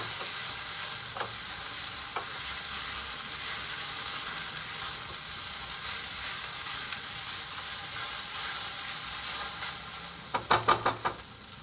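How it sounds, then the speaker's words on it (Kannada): Okra for bhindi fry crackles in a pan, a dense and steady sizzle close up, with a couple of light taps early on and a quick cluster of spatula knocks near the end. "ಬೆಂಡೆಕಾಯಿ ಫ್ರೈ ಮಾಡಿರೋದನ್ನ ಹಾಕೊತಾ ಇದ್ದೀನಿ."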